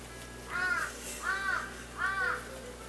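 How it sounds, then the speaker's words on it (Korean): Crows caw outdoors, three evenly spaced harsh calls at moderate distance over a low steady hum. "밖에서 까마귀 소리가 이렇게 들리는데"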